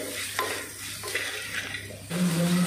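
Onions frying and being stirred in a pan for cabbage thoran, a steady soft sizzle under repeated scraping stirs, with a louder hiss swelling near the end.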